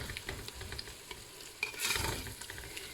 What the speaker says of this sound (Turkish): Şimdi salçalarımızı da iyice kavuralım.